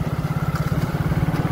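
A motorcycle engine runs with a steady, close, low throbbing pulse while ridden on a festive Rongali Bihu trip, with no talk over it.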